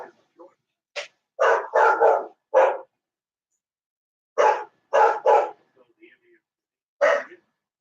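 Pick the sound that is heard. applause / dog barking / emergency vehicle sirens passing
dog barking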